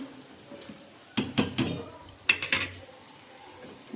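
A metal rice pot knocked while cooking rice in a home kitchen gives two quick clusters of bright, ringing clanks, each a few rapid taps, close and clear against a quiet background.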